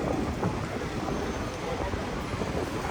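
Wind buffets a microphone outdoors, a constant loud low rumble with rushing gusts that runs unbroken for the whole few seconds, with no other clear sound on top.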